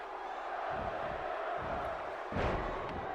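A video game arena crowd in a WWE 2K16 wrestling match roars and cheers in a constant wash of noise, swelling in short surges with a sharper burst near the end.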